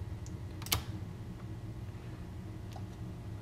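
Soft, sparse key presses on a computer keyboard during animation work, one sharper click standing out among faint taps over a low background hum, with no voices.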